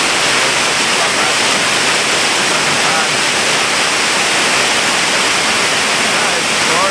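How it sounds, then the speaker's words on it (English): Levencorroch Burn waterfall at Kildonan on the Isle of Arran roars with a dense, constant broadband rush, loud and close, steady from start to finish without any speech. "I've not seen a waterfall like this."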